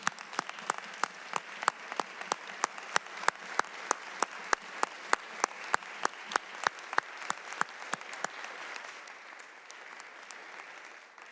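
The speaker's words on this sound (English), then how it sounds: "Can you all rise to your feet and give that woman a round of applause" A roomful of legislators in the Illinois House chamber applaud a woman who led the budget process, giving a standing ovation. Steady, dense clapping with sharp individual claps stands out near and carries on for about ten seconds, then tapers off toward the end.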